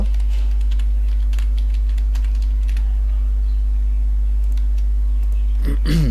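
Computer keyboard keys are tapped in short irregular bursts to enter a cardholder name for an online payment, clicks close and clear over a constant low electrical hum, with a brief voice at the very end.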